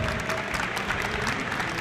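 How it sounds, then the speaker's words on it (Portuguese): An audience applauds indie game developers at a tech event, a short, steady wash of clapping with no break. "Uma salva de palmas para a galera aí."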